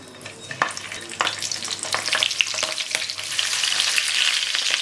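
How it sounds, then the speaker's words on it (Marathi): Stuffed capsicum, bell peppers filled with a spiced mixture, sizzles as it fries in a pan, a close crackling hiss with sharp pops and utensil scrapes that grows louder and denser toward the end, with no talking. "ढोबळी मिरची भाजायला घ्यायची।"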